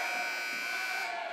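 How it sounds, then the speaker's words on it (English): An electronic buzzer at a college sports match blares as one steady, loud, unbroken tone that cuts off abruptly near the end. "Okay, seriously, enough of the buzzer, thank you."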